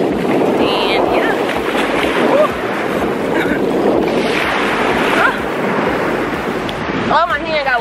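Ocean waves and splashing water at Hollywood, Florida, a loud continuous rush with wind buffeting the microphone, under excited voices.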